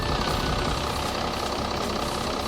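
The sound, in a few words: VW Amarok V6 TDI engine starting and idling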